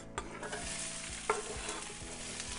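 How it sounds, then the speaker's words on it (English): Onions and peppers sautéing in coconut oil, a continuous close sizzle with a few stirring scrapes and a soft clatter, and no voices. "we're going to saute the onions and the peppers until they get nice and soft and caramelized"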